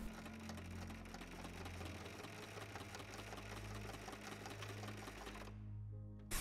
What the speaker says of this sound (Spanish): dejar la aguja clavada para girar y seguir cosiendo.